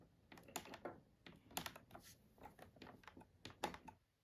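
Fingers tap on the keyboard of a 2013 Samsung R540 laptop during testing after repair, a close, irregular series of sharp plastic key clicks in short bursts with no talk.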